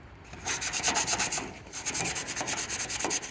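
Hand sanding with a piece of 100-grit sandpaper, scuffing a surface on a 1977 StarCraft Holiday boat. Quick, close rhythmic back-and-forth rasping strokes, loud and steady with a brief pause midway, no voices.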